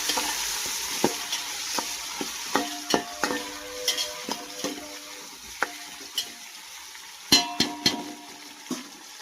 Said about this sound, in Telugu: ఉల్లిపాయలు అయితే ఫ్రై అయినాయి కదా, మనం అయితే 3 టమాటా ముక్కలు కూడా వేసేసుకున్నాము.